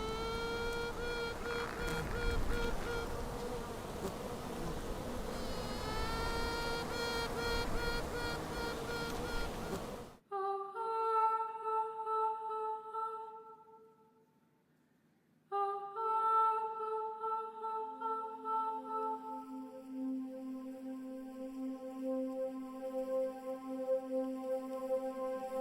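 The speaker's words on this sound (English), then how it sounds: "You can hear for yourself how accurate Butler's transcription of the honeybee queen's piping was" A honeybee queen piping inside the hive: long, steady, high-pitched tones held and repeated in sequence over a close, continuous buzzing of many bees, with no talk.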